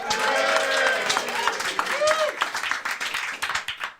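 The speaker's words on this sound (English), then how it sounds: "give me a cheer now, ladies and gentlemen." A live audience cheers and claps in a short burst at a comedy game-show style event, with scattered voices and whoops over the noise, fading toward the end.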